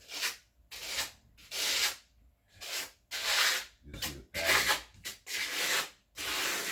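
Trowel strokes applying a microcement color coat in a patterned layer, a series of about ten broad scraping, rubbing sweeps with short pauses between them, close and steady with no talking.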